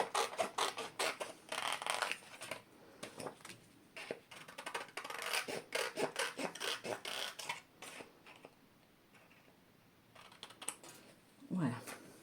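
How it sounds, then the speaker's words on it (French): Paper being cut by hand for a retro 1950s–60s art journal, with repeated short snips and rustles close up at an irregular rhythm, along with a few soft taps and quiet pauses. "Je le découpe en même temps."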